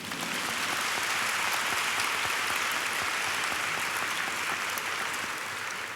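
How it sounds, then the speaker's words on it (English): Audience applause at an International Women's Day corporate event, broad and steady clapping from a room of people that holds at an even level throughout. "You can clap if you like."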